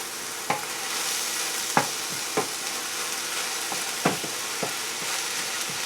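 Mushrooms stirred into a simmering vegan bolognese sauce in a pan: a steady sizzling hiss with several distinct spoon scrapes and knocks scattered through, heard close with no voices.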